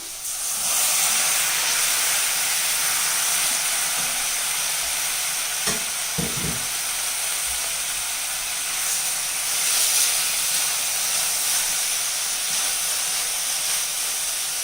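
Chicken pieces sizzle as they go into a pan beside softened onions for chicken perattu, a loud, continuous frying hiss with a few brief clatters of stirring partway through.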